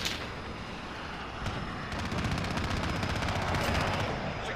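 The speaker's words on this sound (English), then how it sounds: "Enemy precision airstrike," Rapid bursts and booms of a precision airstrike in Call of Duty Warzone multiplayer, a dense run of explosions and gunfire-like cracks building louder after the first second, continuous with no voices.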